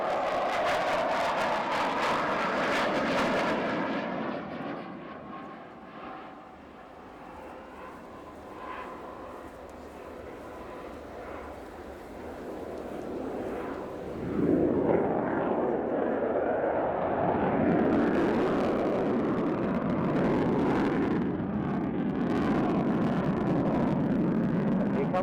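A Ukrainian Su-27 Flanker with twin Saturn AL-31F engines roars past at the RIAT airshow, a loud, sustained jet rumble that swells, fades slightly, then surges again as it passes.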